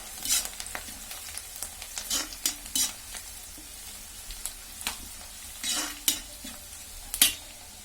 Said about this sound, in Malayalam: കറിവേപ്പില ശരിക്ക് പൊട്ടി വരണം കേട്ടോ.